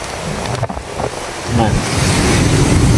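Sea waves wash against the shore beside a night campsite, a steady broadband rush mixed with wind buffeting the microphone, swelling louder and fuller about halfway through.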